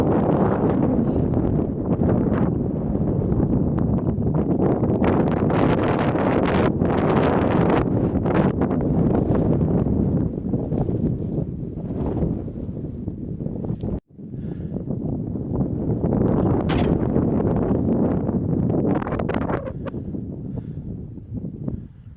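Strong wind buffets the microphone beside a mountain tarn on the fells near Haystacks, a loud continuous roar that dips briefly once midway before rushing back, with no other clear sounds.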